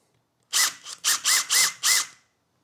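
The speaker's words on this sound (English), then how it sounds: "I'm just going to go ahead and use a little tiny drill bit to" A small drill bit starts a hole with a power drill in a series of five short, loud whirring bursts separated by brief pauses, close by and with no speech.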